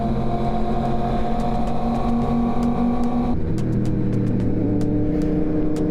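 Tour group vehicle rolling slowly along a road in the USA, a steady low engine drone with hum and cabin rattle, the tone dropping slightly partway through.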